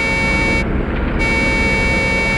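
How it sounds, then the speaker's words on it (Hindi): A horn-like signal sounds in a jungle, a loud, steady, unbroken tone that holds for a couple of seconds with no talking over it. "हॉर्न भी बजा रहा है।"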